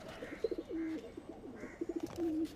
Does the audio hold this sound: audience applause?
no